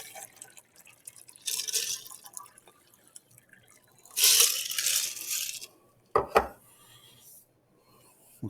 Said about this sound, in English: We're going to put some very cold water in.